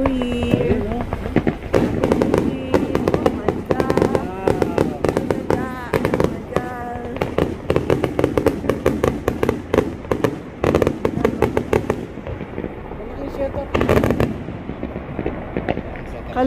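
New Year fireworks and firecrackers go off across a neighborhood in dense, rapid crackling volleys and sharp pops, near and loud, with people talking amid the blasts.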